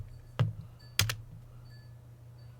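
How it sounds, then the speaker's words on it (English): Two sharp keystrokes from a computer keyboard as a password is typed, close and distinct against a low steady hum, with no talking. "Type in your password."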